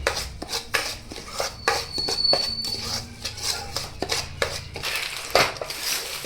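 A spoon stirs wheat flour and sugar in a pan while making barfi, with repeated scraping and clinking of metal on metal in an uneven rhythm, close and clear.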